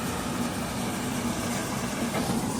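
A tractor engine idles at a grain market, a steady low rumble with a faint rhythmic thrum throughout, close by, no speech.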